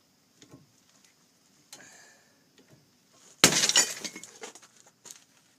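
A rusted part cracks under a three-jaw hydraulic puller, first with small ticks and creaks, then one loud sharp shattering snap followed by scattered fragments settling, close and without talk.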